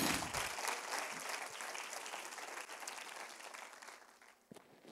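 A church congregation applauds together in a steady, dense wash of clapping that holds for several seconds before tapering slightly near the end, loud and close with no talk over it.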